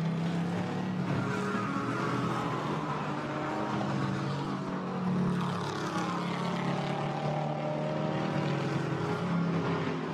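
GT4 race cars, Porsches and a Camaro, racing at the Zandvoort circuit: a continuous engine roar that swells and fades slightly as they pass, with no talk.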